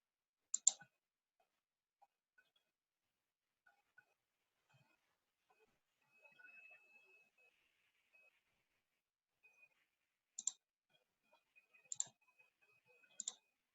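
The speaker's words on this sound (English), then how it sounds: "So I've clicked on the link" A computer mouse gives a few faint, isolated clicks, one early and a quick cluster near the end, in otherwise near-silent quiet.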